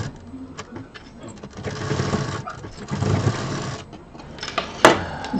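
A sewing machine stitching a bag, bursts of rapid mechanical whirring close by that start and stop, with a few clicks and a sharp knock near the end.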